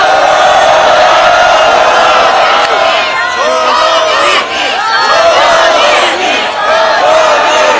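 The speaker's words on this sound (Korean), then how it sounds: "전현희 최고위원의 규탄사를 큰 박수와 함성으로 청해 듣겠습니다" A large crowd at a candlelight political rally cheers and shouts loudly, a sustained roar of many voices with whoops rising above it; clapping is not distinct.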